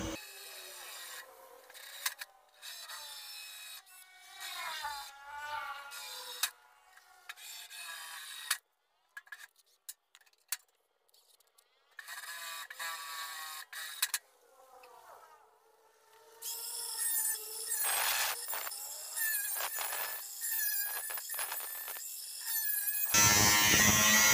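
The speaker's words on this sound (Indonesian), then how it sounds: "Untuk bagian lubang voltmeter sama HZ meter, saya menggunakan gerenda." An angle grinder and drill cut holes for a voltmeter and Hz meter in a metal generator control panel, with intermittent whining and rasping bursts separated by pauses, growing louder toward the end.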